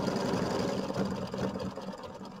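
A computerized embroidery machine stitches a satin stitch outline on a cauldron design, giving a steady, fast mechanical whirring hum that runs evenly and close throughout.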